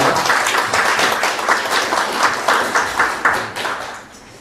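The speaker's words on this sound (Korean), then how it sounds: "박수하겠습니다" A church congregation claps after a sermon, a full, steady round of applause from many hands that thins out toward the close.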